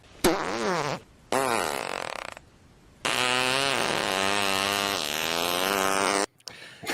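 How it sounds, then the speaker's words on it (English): Long loud farts made by a man up close, a short burst then a sustained rumbling, buzzing one with a few brief breaks between. "here's a few seconds of me farting"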